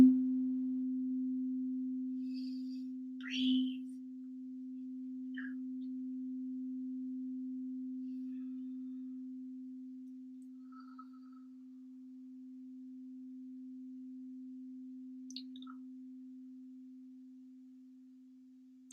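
A steady crystal singing bowl tone rings alone for the whole stretch, a sustained hum with slight wavering as it is played fast, broken only by a few faint incidental clicks and taps.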